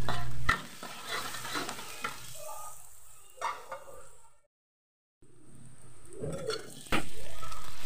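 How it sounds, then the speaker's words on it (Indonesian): Shallots and garlic sauté in a pan with scraping stirs and clinks of a spatula over a low sizzle, broken by a brief silent gap before louder stirring and frying resume. "Pertama-tama saya akan tumis bawang merah dan bawang putihnya sampai wangi"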